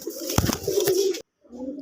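Close cooing of a male pigeon, a throaty rolling call that breaks off briefly and then resumes.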